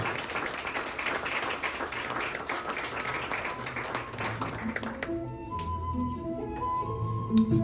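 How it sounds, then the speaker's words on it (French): Wedding guests applaud the groom's brother, a dense burst of clapping for about five seconds that cuts off abruptly, leaving quieter room sounds with faint voices and scattered taps. "Je vous demande d'applaudir Mathieu, le frère du marié."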